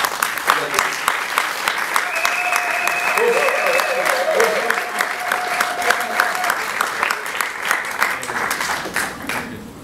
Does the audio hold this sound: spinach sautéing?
no